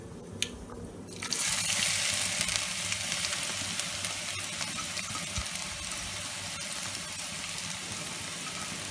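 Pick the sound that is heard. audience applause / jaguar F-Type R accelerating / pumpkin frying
pumpkin frying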